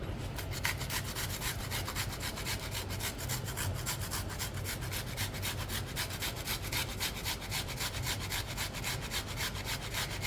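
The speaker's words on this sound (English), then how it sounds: "But see how my onion is, I'm just gonna grate." A red onion scraped quickly back and forth across a grater makes steady, rhythmic rasping strokes, close and continuous with no talking.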